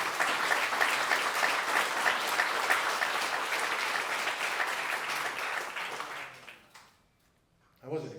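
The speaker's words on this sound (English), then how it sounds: "I wasn't expecting that, but who clapped?" Audience applause at a Chamber of Commerce general membership meeting in Guam, a steady burst of clapping from a room of people that fades out after about six seconds, followed by a brief sound from a nearby voice.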